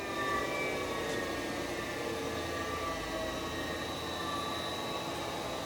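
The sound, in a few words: work head of a CNC cylindrical grinder running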